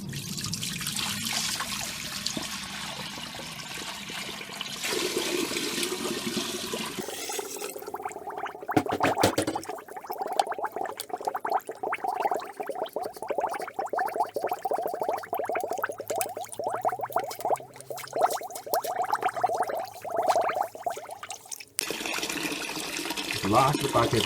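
Water runs and trickles steadily through a Carpigiani ice cream machine being flushed out with buckets of water, a continuous close splashing flow that carries on alone for most of the stretch.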